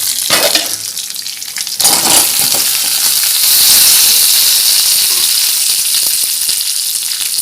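Ragi (finger millet) dumplings tipped into a pan of hot sizzling tempering, giving a loud, steady frying hiss with a sharper burst of sizzle as they land, and no speech.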